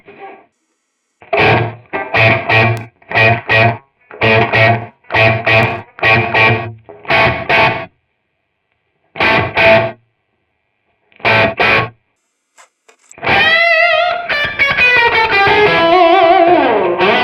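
Distorted electric guitar through an AMT Pangaea CP-100 cabinet simulator plays repeated chopped chords in short bursts, then a sustained ringing chord trails off with a roomy, reverberant tail.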